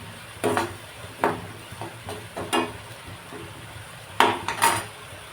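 Dried prawns being sautéed in a pan give soft sizzling under a few sharp scrapes and clinks of a spoon against the metal, quiet and close with no talking.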